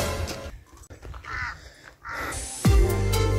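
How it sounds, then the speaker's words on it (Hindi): Crow cawing at a high hillside spot on the road to Kamrunag near Mandi, a few harsh calls spread over several seconds with a louder, closer burst near the end amid outdoor ambience. "ये रहा कौवा,"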